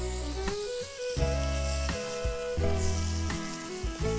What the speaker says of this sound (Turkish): Şimdi biber ve domatesi kavuruyoruz